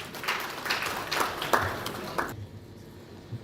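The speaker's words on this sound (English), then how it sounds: "Shall we welcome him with a round of applause" A conference audience at a gas price formation report launch gives a short round of applause to welcome a speaker, with scattered claps for about two seconds before it drops to near silence.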